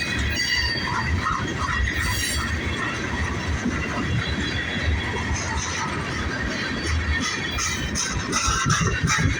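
A Buffalo and Pittsburgh freight train with tanker cars rolls past steadily near Punxsutawney, Pennsylvania, a continuous loud rumble of wheels with occasional faint squeals, no talking.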